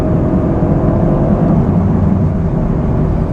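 A 2023 Audi RS 5 Competition accelerating to overtake, heard as a loud, steady cabin drone of engine and road roar with no talking.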